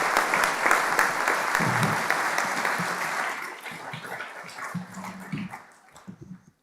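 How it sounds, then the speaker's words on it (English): Audience applause fills a hall at a livestreamed talk on central bank digital currency, steady and dense, then thins and fades out toward the end. A few scattered low voices sit underneath. "Please give her a warm round of applause."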